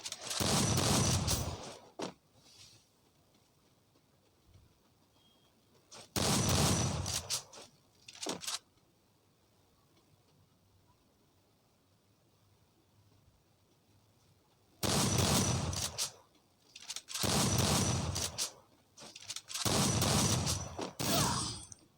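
Automatic gunfire from a gun in an online shooting video game, heard as several loud sustained bursts separated by long quiet gaps.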